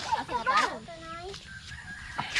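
A chicken clucks and squawks a few times nearby, the calls rising and falling in quick bursts over faint background noise.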